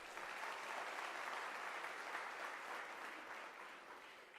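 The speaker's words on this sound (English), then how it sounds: "So give yourself a round of applause" A graduation ceremony crowd of graduates applauds in a steady, dense round of clapping that holds at an even level for several seconds before easing slightly toward the end.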